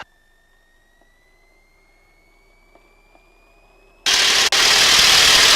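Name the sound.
T-6 Texan aircraft engine powering up for takeoff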